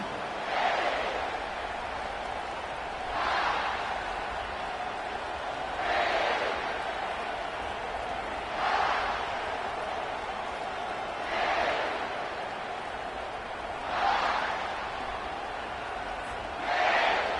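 Large football stadium crowd roaring in rhythmic surges about every two and a half seconds, a chanting swell that rises and falls over a steady distant din, with no clear voices up front.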